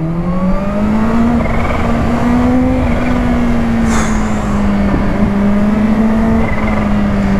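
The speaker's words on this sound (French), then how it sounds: "le bruit du compresseur, c'est jouissifissime" A supercharged Kawasaki Ninja H2 motorcycle engine drones steadily at high revs, its pitch rising and falling slightly, with a whining supercharger compressor tone layered over the continuous roar.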